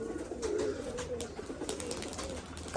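Soft, low cooing from Giribaz pigeons nearby on a pigeon farm, a continuous gentle warble with a few faint taps in the background.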